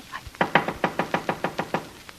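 A rapid series of about nine sharp, evenly spaced knocks on a door in a 1945 radio crime drama, crisp and close with no voices over them.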